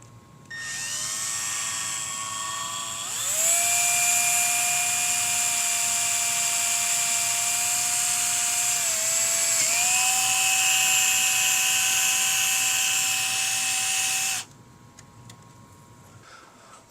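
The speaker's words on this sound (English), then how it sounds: "So I got to drill a little hole in the case and fit that in." A small drill bores a hole in the plastic case of an Amiga 500+, whining at a steady high pitch. It spins up, holds with a brief dip partway through, then stops abruptly, close and alone.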